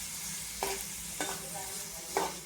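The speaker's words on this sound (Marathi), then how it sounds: "आणि टोमॅटो आपण एक 5 ते 6 मिनटं परतून घेणार आहे" Tomatoes sautéing in a pan for tomato chutney, a soft steady sizzle with three distinct scraping stirs of a spatula spaced through it, fairly quiet and close, with no voices.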